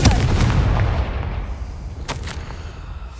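A Confringo fire spell from the Hogwarts Legacy video game goes off as a loud, booming blast whose heavy rumble slowly fades, followed by a couple of sharper crackling pops near the end.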